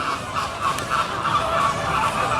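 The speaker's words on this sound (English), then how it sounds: "The Flamingos are out of their temporary home and apparently they're having an argument." Nasal, honking flamingo calls overlap continuously, a noisy flock squabbling at moderate distance at SeaWorld San Diego, with no voices.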